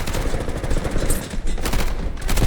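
Rapid bursts of MP5 submachine gun fire in the shooter Delta Force, loud and close, fast automatic crackle running almost continuously through the whole stretch.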